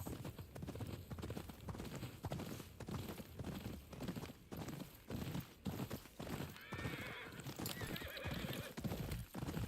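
A horse in the Ghost of Yotei video game walks with steady clip-clop hoofbeats on dirt, close and even in rhythm, and a whinny cuts in partway through.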